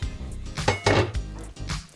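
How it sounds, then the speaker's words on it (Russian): A cast-iron pot is handled on a gas stove while cooking Tatar meat pastries, giving a few close metallic clanks and knocks of cookware over about two seconds, with no talk. "Нам потребуется вот сейчас чугунная вот такая вот кастрюля."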